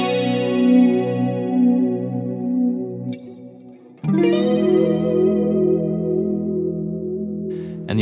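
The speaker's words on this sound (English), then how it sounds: "So you have the clean sound with the chorus." A clean electric guitar tone with a shimmering chorus effect from a Line 6 Helix rings out in sustained chords, with a second strummed chord entering midway, played alone.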